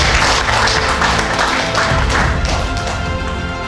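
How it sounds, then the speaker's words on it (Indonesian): Applause from an audience at a first-anniversary thanksgiving celebration for a company, a dense, steady wash of clapping that stays loud and close throughout, with no individual claps standing out. "Tepuk tangan dulu untuk kita semua."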